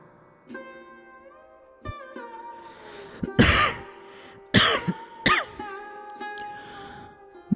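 A man coughs harshly in three loud, rough bursts after drawing on a hookah several times, with soft sustained background tones underneath.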